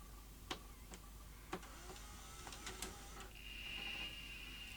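Philips VR2220 V2000 portable video recorder fast forwarding a tape: a few sharp mechanical clicks, then a rising whirring hum of the spinning transport, faint and close.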